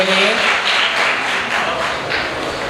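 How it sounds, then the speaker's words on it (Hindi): Applause from a festival audience for young children's performance at an arts, culture and innovation event in Deoria, a dense, fairly loud clapping wash that tapers slightly, with faint voices mixed beneath it. "ताली बजा दीजिए एक बार बच्चों को। जोरदार तालियां इन छोटे बच्चों के लिए।"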